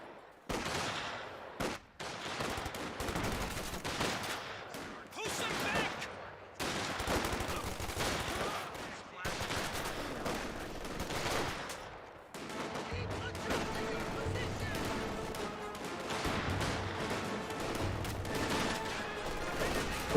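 Company of Heroes 2 battle gunfire: rapid bursts of rifle and machine-gun fire crackle through dense layered war noise in choppy segments, loud and continuous across the stretch with no clear talk.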